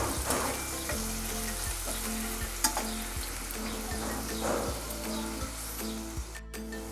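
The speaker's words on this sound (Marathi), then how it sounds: "कांदा लाल करून घेऊया." Chopped onion frying in oil for a vegetarian soybean kheema, a steady close sizzle throughout with repeated scraping stir strokes at a regular pace; no voices.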